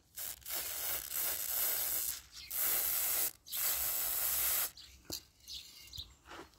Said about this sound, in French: je mets de la bombe sur un coton-tige.